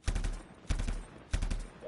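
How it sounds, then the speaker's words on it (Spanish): Pistol gunfire in the video game Anthem: three sharp, loud shots spaced about six tenths of a second apart, each with a short echoing tail. "me gusta, el efecto de los sonidos de la pistola"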